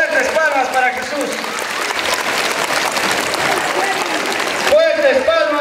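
A crowd of children and adults at a parish Christmas gathering in Pomabamba claps hard for Jesus, steady applause filling the whole stretch, with a voice talking over it at the beginning and again near the end.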